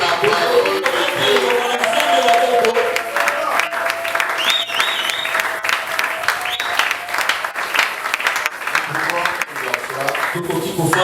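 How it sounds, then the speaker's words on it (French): A church congregation breaks into sustained applause, dense clapping from a large crowd that carries on for several seconds while a voice talks over it. "Est-ce qu'on peut acclamer la parole de Dieu?"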